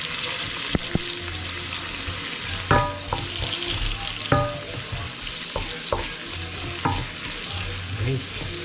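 Ginger sizzles in a hot frying pan while a utensil stirs it, with a steady hiss broken by scraping and clacking strokes against the pan, close and alone.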